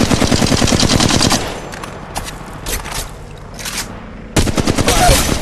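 Rapid automatic gunfire from Apex Legends Mobile, loud and dense bursts at the start, a quieter stretch with scattered shots and scraping, then another heavy burst of sustained fire near the end.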